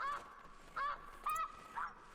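Ducks calling in theHunter: Classic on Whiterime Ridge, four short nasal honking calls spaced about half a second apart, clear and moderately near against a quiet background.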